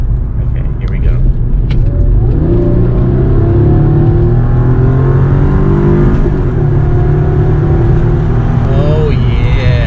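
Mercedes AMG engine fitted with a custom dual cold air intake, revving with a deep, steady rumble heard from inside the cabin, rising and falling through continuous loud throttle blips for about ten seconds.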